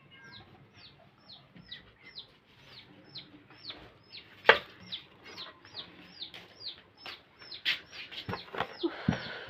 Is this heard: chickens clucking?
yes